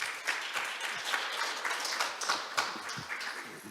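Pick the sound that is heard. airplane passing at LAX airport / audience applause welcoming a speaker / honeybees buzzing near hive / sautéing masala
audience applause welcoming a speaker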